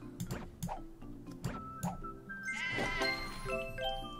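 Cartoon sheep bleats from the Divide by Sheep puzzle game, several short wobbly calls and squishy game effects, ending in a busier overlapping cluster of bleating.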